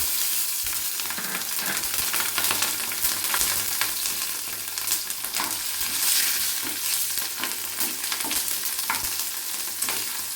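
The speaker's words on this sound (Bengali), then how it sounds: "এবার এই তেলের ভিতরে একটু জিরে ফোড়ন দেব, তারপরে চেরা কাঁচা লঙ্কাগুলো দিয়ে দেব।" Cumin seeds and slit green chillies crackle and sizzle in hot oil for a light fish curry, a steady bright hiss with scattered pops and stirring scrapes, close and alone.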